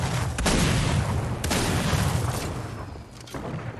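Grenade launcher blasts in Fortnite boom one after another, a few heavy explosions with rumbling tails, the last one fainter and farther off.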